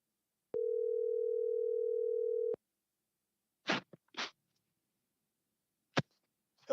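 A telephone rings out while a call to someone is placed: one steady two-second tone, then silence broken by a few soft clicks and rustles.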